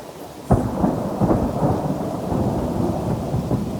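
Thunder booms sharply and rumbles on over steady rain falling around a back porch during a thunderstorm, close and loud with no talking.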